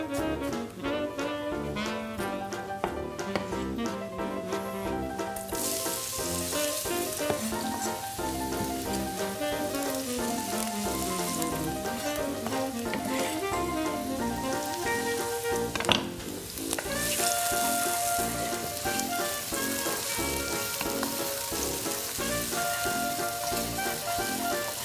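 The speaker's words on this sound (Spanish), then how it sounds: "Luego la vamos a saltear un poco." Onion sautés in a pan for a mushroom and Parmesan risotto, giving a long, even frying hiss with a few utensil knocks, while music plays throughout.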